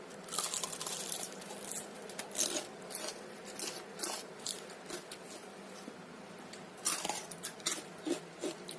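Crispy fried tofu and tempe being bitten and chewed close to the microphone, a quiet run of irregular crunches and crackles, some sharper bites standing out, with no talk.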